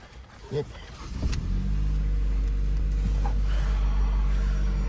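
A Ford car engine turns over with a click and thump, then settles into a steady low idle hum as it warms up, a faint voice briefly in the background.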